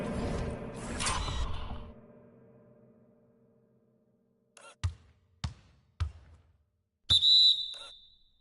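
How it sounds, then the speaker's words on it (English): A referee's whistle in a basketball video game signals a three-second violation with one sharp, loud blast near the end. It follows crowd noise and several hard thumps, likely ball bounces. "And he gets the whistle for the 3-second call."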